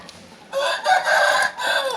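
Egg-laying hens cluck and squawk loudly nearby in a few bursts, with a brief quiet moment at the start.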